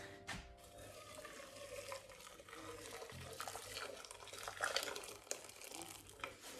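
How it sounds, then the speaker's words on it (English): Freshly boiled hot water is poured onto stinging nettles to make tea, a soft continuous trickle and splash with faint rattling, quiet and close in a kitchen. "I'm going to add to that the hot water has just boiled"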